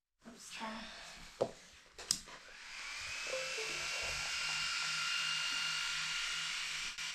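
An ACMER S2 laser engraver in a home workshop starts up with a couple of clicks, then settles into a steady, even motor and fan whir that runs to the end. People speak quietly near the start.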